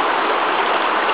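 The Carigiola river runs beside an old mill near Cantagallo, a steady, close, even rush of flowing water that holds constant throughout, with no voices over it.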